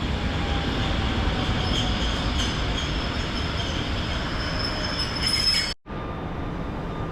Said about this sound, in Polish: pod semafor dojeżdża EN57AL kolei Małopolski o nawet dwie sztuki